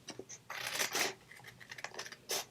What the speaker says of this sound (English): I'm going to go ahead and cut this out